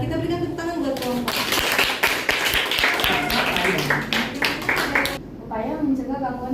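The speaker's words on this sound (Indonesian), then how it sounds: "Kita berikan tepuk tangan buat kelompok." A classroom group of students is applauded, with steady dense clapping running throughout beneath an adult voice talking over it.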